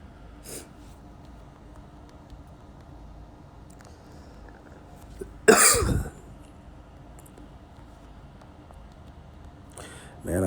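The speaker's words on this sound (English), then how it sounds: "Man, I've been coughing so much" A man coughs in one short, loud, harsh burst, with a fainter throat-clearing sound at the end and quiet room noise between.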